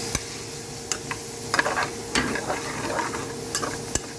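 Jambalaya cooks down in a pot with a constant sizzle, while a spoon stirs and scrapes and the pot gives occasional sharp clicks and knocks, close and clear with no talking.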